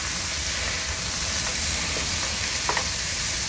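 Pineapple pieces frying in a couple tablespoons of oil in a pan while cooking sweet and sour pork outdoors, giving a steady soft sizzle with a faint clink or stir near the end.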